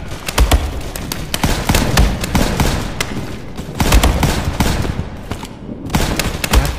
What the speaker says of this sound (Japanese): やっぱり銃声がいいですよね。